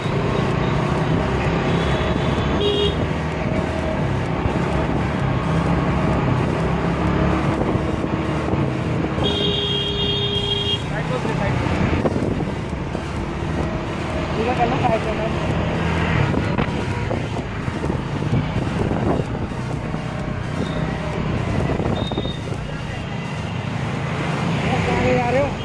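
A 2021 TVS Ntorq 125 Race XP scooter engine hums steadily while riding, buried under heavy wind buffeting on the microphone, with someone talking over it throughout.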